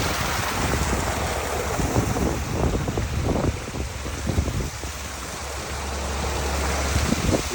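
Water from a constructed waterfall feature in Tulare, California pours and splashes into a pool, a broad continuous rushing wash with some wind noise and no voices.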